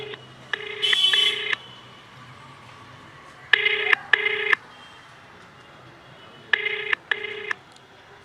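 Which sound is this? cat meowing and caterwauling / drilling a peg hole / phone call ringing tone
phone call ringing tone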